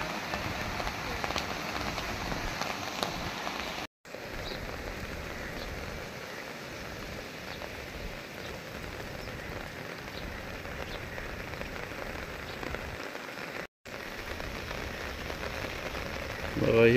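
Heavy monsoon rain pours steadily onto a flooded farm and house area, a dense, continuous hiss of drops on water and surfaces, briefly cut out twice.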